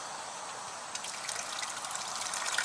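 Water gushes and trickles steadily as an aquaponics flood-and-drain bed empties through an automatic bell siphon, a continuous bright rushing flow that grows slightly louder toward the end, with no voices.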